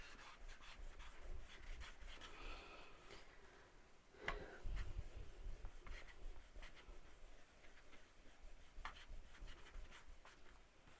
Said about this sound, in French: on a bientôt fini de gommer